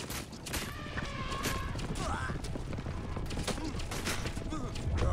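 Rapid volleys of arrows loosed from a racing chariot in Assassin's Creed Origins, sharp repeated shots over dense clattering hooves, wheels and battle noise, with voices shouting in the mix.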